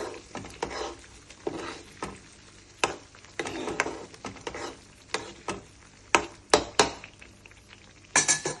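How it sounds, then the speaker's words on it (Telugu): A spoon scrapes and clinks against a pan as capsicum masala gravy fries in oil, with intermittent sharp metallic knocks and a low sizzle running beneath, close and fairly quiet. "ఇది మొత్తం గ్రేవీ మొత్తం ఇందులో వేసుకోవాలండి. బాగా వేయించాలండి."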